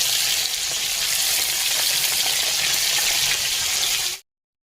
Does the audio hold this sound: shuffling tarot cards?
no